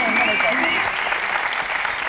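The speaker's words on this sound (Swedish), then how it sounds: "ger vi dem en applåd" A studio audience at a Swedish TV entertainment show breaks into loud, continuous applause, with a few tonal whoops or voices mixed into the clapping.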